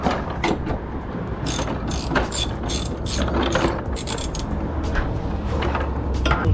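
A ratchet wrench loosens a bolt on the subframe of a Lexus IS300 during a subframe collar install, giving rapid repeated clicking strokes in bursts that stand close and loud against a low background hum, with no talking.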